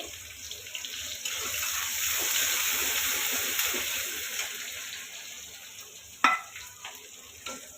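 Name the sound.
onions frying in oil in a wok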